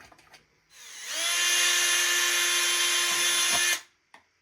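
A power drill spins up and whines steadily for about three seconds, then winds down, loud and close, with a few clicks and knocks before and after, during a portable air conditioner installation.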